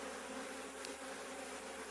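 A dense, steady drone of honeybees buzzing close by during a hive inspection, continuous and even with no voices.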